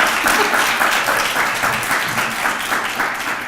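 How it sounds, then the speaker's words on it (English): An audience at a special event applauds loudly and close, a dense rush of clapping hands with a few cheers mixed in, holding strong for a few seconds before easing slightly. "Can we applaud for Girls Fly?"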